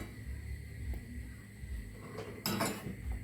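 A metal pan is handled on the stove for melting 60 grams of butter, giving soft clinks and a sharper clatter near the end, over steady kitchen background hum.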